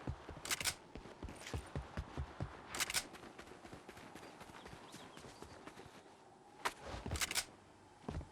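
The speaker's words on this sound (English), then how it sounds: "Oh, that's gunfire." Distant video game gunfire, a few sharp cracks in separated bursts over a faint, steady clicking background, fairly quiet overall.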